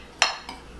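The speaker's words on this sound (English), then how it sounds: "we're using our huge frying pan" A huge frying pan is handled on a home stove, giving one sharp metallic clatter followed by a softer knock, close and brief with no talking.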